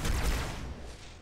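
Explosions and gunfire in the game Halo 2 Anniversary make a dense, continuous battle roar that slowly fades, with no talk over it.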